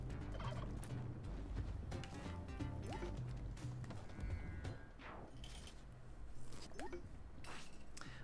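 Turkeys gobble in the Spelunky video game, with short rapid warbling gobbles heard a few times over busy game sound effects and background music.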